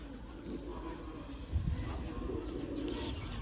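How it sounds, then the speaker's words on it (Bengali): Pigeons at a pigeon seller's coo in a low, soft murmur, with a slight swell midway, beneath steady background noise and faint voices. "আসুন আপনাদের পায়রাটিকে ছেড়ে ভালোভাবে স্ট্যান্ডিং দেখিয়ে দিই"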